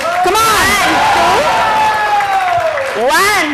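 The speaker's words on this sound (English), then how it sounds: "now it is your turn, audience, to cheer these players" A school audience at a school day event cheers and yells loudly for players, with excited shouts rising and falling over continuous crowd noise.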